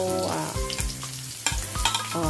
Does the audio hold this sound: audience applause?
no